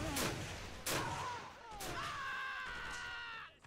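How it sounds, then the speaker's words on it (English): Hand grenades go off in a battle video game set during the Japanese invasion of French Indochina. A few sharp, distant-sounding blasts ring out among whistling and shrill tones of battle. "the French are throwing hand grenades!"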